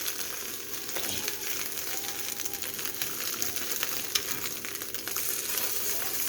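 Eggs sizzle steadily in a frying pan as they cook into scrambled eggs, a close continuous crackling hiss with faint spatula stirring and no talking.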